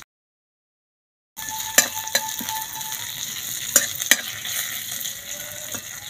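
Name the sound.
curry leaves, cumin and fennel sizzling in oil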